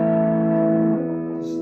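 An electric guitar rings out through a clone-style pedal and a touch of reverb, a sustained chord with shimmering chorus-like wobble that decays smoothly, loud and alone with no talking.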